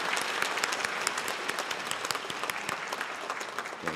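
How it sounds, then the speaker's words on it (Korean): A church congregation applauds in a steady, dense wash of many hands clapping throughout, filling the room evenly with no voices rising above it. "큰 축복의 박수 함께"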